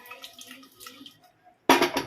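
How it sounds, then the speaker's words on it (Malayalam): Water poured into a pan of beetroot being cooked, a short loud splashing gush arriving at the end after a few quiet kitchen clinks, close by and without speech. "കുറച്ചും കൂടി വെള്ളം ഒഴിക്കാം."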